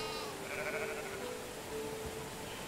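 Sheep bleating inside a sheep barn in the game Medieval Dynasty, a few drawn-out bleats over a low steady background, moderately close and alone without speech.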